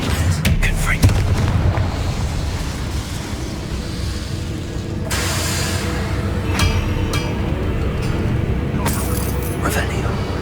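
An Expelliarmus spell cast in Hogwarts Legacy gives a few sharp bursts over a dense, roaring game background, loud and close throughout.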